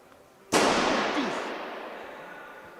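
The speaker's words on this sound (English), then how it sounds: "tyre has popped in the venue, as you can hear the explosion" A sudden loud bang rings out inside a wheelchair basketball arena during a Champions Cup game when a tyre pops, a sharp burst that decays slowly into the hall's echo, with no talk over it.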